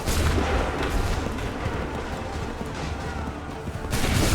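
Massed musket volleys roar through an Assassin's Creed 3 Remastered revolutionary war battle. The booming fire is continuous and dense, easing slightly in the middle before another loud burst near the end.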